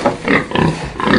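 Close pig oinks and grunting snorts come in several quick bursts, loud and clear with no voices.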